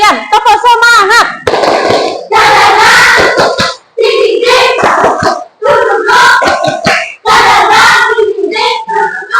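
Indonesian schoolchildren shout together in unison while clapping in quick rhythmic bursts in a classroom, a loud group cheer with short pauses between phrases.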